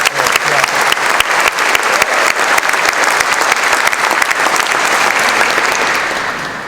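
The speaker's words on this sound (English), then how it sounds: "Just give us a round of applause" Loud, dense applause from a conference audience thanking the organising committee, with sharp individual claps standing out in a continuous roar that tapers off toward the end.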